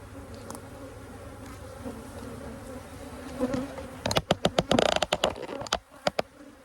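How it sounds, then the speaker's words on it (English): Steady hum of many bees buzzing at a queenless hive throughout, joined near the end by a run of sharp tapping and clicking noises nearby. "Bees and buzzing."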